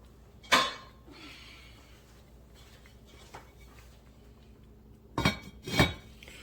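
A metal lid clanks onto a pot of Southern Sunday pot roast seasoned with bay leaves: one sharp clink, a quiet pause with faint handling, then two more close rattling knocks as it settles.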